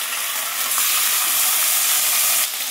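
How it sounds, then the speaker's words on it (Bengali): Rice frying lightly in a pan with whole spices for navratna pulao makes a loud, dense, even hiss that runs close and steady throughout, easing off slightly near the end. "চালটাকে হালকা করে ভেজে নিলাম।"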